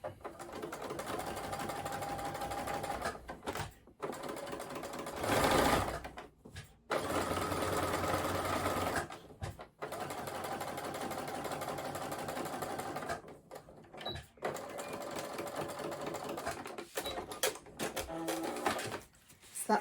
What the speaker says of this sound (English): I'm going to do another line of top stitching here a little bit further out.